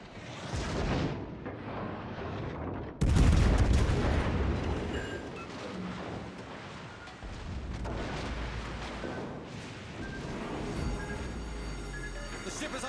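Naval gunfire from warships in the World of Warships Legends video game: a heavy, booming salvo erupts about three seconds in, followed by continuous rumbling battle noise and further scattered gun reports.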